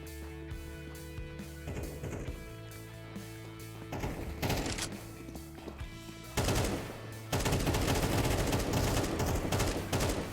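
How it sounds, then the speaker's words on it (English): AK rifle fire erupts in a video game match, with bursts of automatic shots, layered volleys and explosions building in intensity and growing louder and denser toward the end, with no talk over them. "it's all AK noises"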